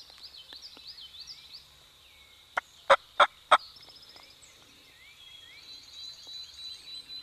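A wild turkey gobbler travelling with hens gobbles three times in quick succession, loud and close, over a steady background of chirping birds and insects.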